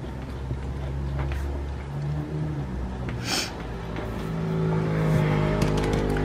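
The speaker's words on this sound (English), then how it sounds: "Sorry for all the cars, guys." Cars passing by outside an open window, a low steady traffic rumble with a brief hiss as one vehicle goes by, then a swelling engine drone as another approaches, distant and moderately loud.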